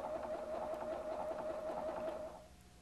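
Husqvarna Viking Platinum 770 sewing machine stitching a pants seam with presser foot A, a short close whirring run that winds down at the end.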